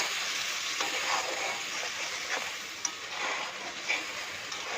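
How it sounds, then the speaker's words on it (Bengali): Masala with chopped tomato and turmeric frying in a pan for a spicy tangra fish curry, giving a loud, continuous close-up sizzle with a few sharp pops and light stirring scrapes. "আর দিয়ে দেবো পরিমাণ মতন হলুদ দিয়ে ভালো করে কষিয়ে মশলাটা ভালো করে কষাতে হবে"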